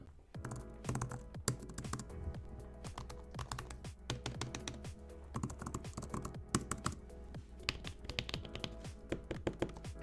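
Steady, fast typing on an iPad Pro Magic Keyboard, a dense run of soft clicking keystrokes, close and fairly quiet, with no voices.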